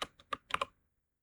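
A computer keyboard is typed on in a quick burst of about five soft, close clicks, with silence after.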